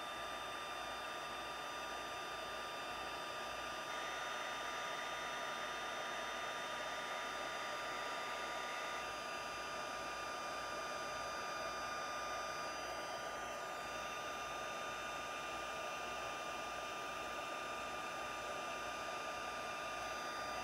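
A heat tool blows steadily while warming an embossed card for a silhouette shadow-dancing card, making a continuous whirring hiss with a faint high whine that holds evenly for the whole stretch.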